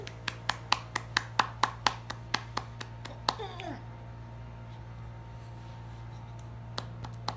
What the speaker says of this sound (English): You're so good at clapping.